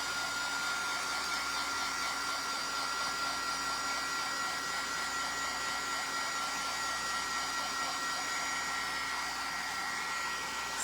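A hair dryer blows steadily on a handmade rabbit craft piece, a loud, even whoosh and whine that runs without a break for the whole stretch, with no voices.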